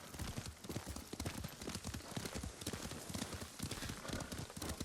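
A horse's hooves clip-clop in a quick, steady rhythm at a riding pace in the video game Ghost of Tsushima, close and continuous with no talking.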